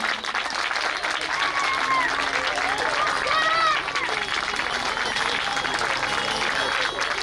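A crowd at a Shiv Mahapuran religious recitation applauds loudly and continuously, and a voice carries over the clapping.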